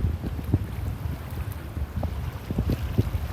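Gusty wind buffets the microphone on a beach walk at Delnor-Wiggins, a low steady rumble with occasional thumps and faint surf underneath.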